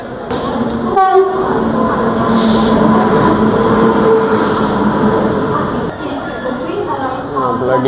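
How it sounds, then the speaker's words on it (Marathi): The Indrayani Express pulls into Thane station, a loud rumble of wheels and carriages with a horn blast near the start and station noise around it. "आपली ट्रेन आलेली आहे इंद्रायणी"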